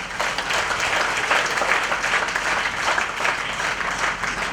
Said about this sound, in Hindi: एक बार उन जबरदस्त डायमंड्स के लिए जोरदार तालियां।